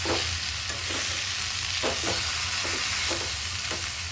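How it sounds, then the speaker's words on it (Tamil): Bitter gourd stir-fries on low heat, a continuous close hiss broken by regular spatula strokes scraping and knocking against the pan every half second or so, with no speech. "சிம்மில் வச்சு ஒரு 2 வதக்கிட்டு எடுத்து வச்சிடலாம்."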